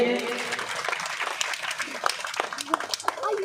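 Applause from an audience at a religious discourse (katha) gathering in Shriram Colony, Katighati, Alwar, a dense, steady wash of clapping throughout that partly masks the background chatter.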